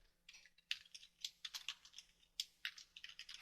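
Quiet keystrokes on a computer keyboard, typing a text label while drafting isometric duct details, in an irregular patter of light clicks with small pauses, close and alone.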